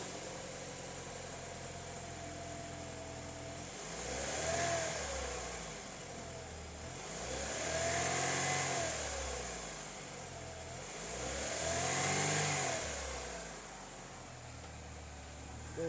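A 2007 Chevrolet Cobalt engine idles steadily, then revs up three times in slow, evenly spaced swells that rise and fall back to idle, heard close with no talking.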